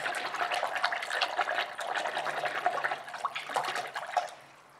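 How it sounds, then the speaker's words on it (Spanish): Running water steadily rinses paint brushes clean after a wash with dish soap, a continuous close splashing stream with no talking. "después esto nada más se enjuaga con agua limpia"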